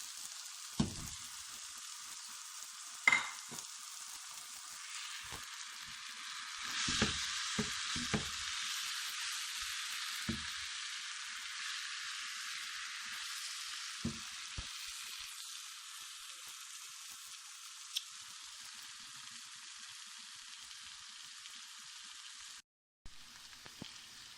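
Meat and potatoes fry in a pan with a steady, close sizzle throughout, broken by occasional soft scrapes and knocks of stirring. No one speaks.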